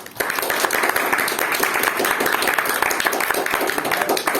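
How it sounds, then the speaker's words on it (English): Round of applause from attendees at a Toastmasters club meeting, a steady dense clapping that fills the room throughout with scattered voices mixed in. "Give yourself a round of applause."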